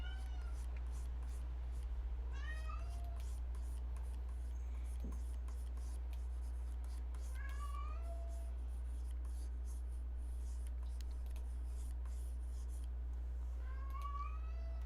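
A cat meows a few times, brief rising calls scattered through a quiet room over a steady low hum, with pencil-like scratching in places.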